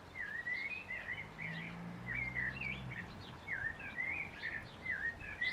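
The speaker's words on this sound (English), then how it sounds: "Can you hear that blackbird singing?" A blackbird sings clear, fluting phrases again and again in a garden where homegrown vegetables and potatoes are being grown, the song carrying steadily over a soft outdoor background with no talking.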